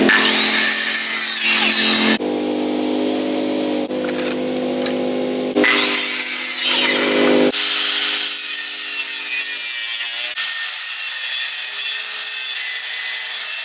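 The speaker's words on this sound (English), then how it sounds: "I'm going to put a fresh jigsaw blade and everything so we have all nice clean cuts." A jigsaw with a fresh blade cuts a wooden brace for a subwoofer box, loud rasping sawing strokes in several bursts with short pauses, close by and with no talk.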